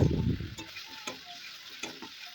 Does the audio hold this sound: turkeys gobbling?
no